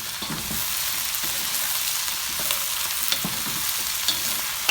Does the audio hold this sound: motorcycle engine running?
no